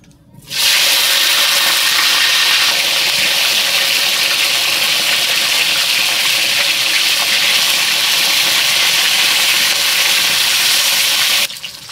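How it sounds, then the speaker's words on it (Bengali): Cauliflower soaked in salted turmeric water frying in hot oil, a loud steady sizzle that starts abruptly, holds evenly for about eleven seconds, then cuts off. "এরপর আমি ফুলকপিটা ভেজে নেব।"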